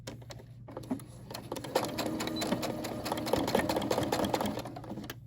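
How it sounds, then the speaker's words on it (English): A Brother SE600 sewing machine with a presser foot back-stitches through fabric, whirring in a fast, steady mechanical chatter close up for about five seconds after a brief click at the start, with no talking. "Okay, we're gonna back stitch."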